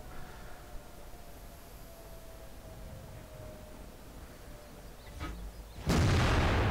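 A tank cannon shot strikes a KB5 vehicle in a video game, landing as one loud, sudden blast near the end after a quiet stretch of low background rumble.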